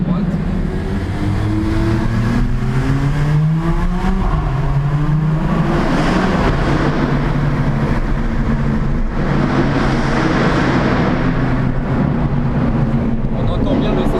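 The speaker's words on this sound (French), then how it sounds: "On entend bien le C63" A Mercedes-AMG C63 in a night convoy of four AMGs, its engine rumbling steadily and rising and falling in pitch close by, with people talking over it.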